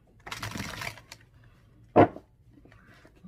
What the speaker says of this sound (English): All right, I'm going to shuffle one more time.